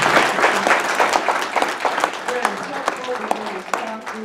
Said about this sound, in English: let's continue with a round of applause for all of the candidates who are here